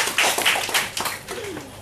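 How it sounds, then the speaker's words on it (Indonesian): An audience claps at an indoor sales talk, with a short burst of irregular hand claps at close range that thins out toward the end. "Oke, boleh tepuk tangan nggak buat catur?"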